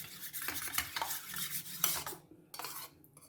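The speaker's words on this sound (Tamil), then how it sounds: "கட்டி இல்லாமல் நல்லா கலக்கிக்கோங்க" A spoon stirs maida flour paste in a bowl to work out the lumps, scraping and clinking against the sides in a steady, close rhythm with no voices, then falling briefly quiet before a few more strokes.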